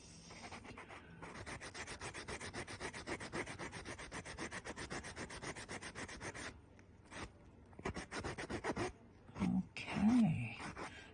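A polymer clay mandala ring is sanded by hand in quick rhythmic back-and-forth rubbing strokes that run steadily for several seconds, then break into short scrapes with faint breathing and murmurs near the end.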